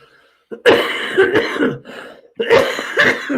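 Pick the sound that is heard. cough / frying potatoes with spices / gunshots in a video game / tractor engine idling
cough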